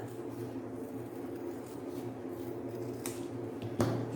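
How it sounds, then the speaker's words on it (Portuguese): Paper being cut with a flat-held pair of scissors during a craft project, a steady low rustling snip that continues faintly for several seconds, with a sharper cut near the end and no talking. "Todo com a tesoura deitada."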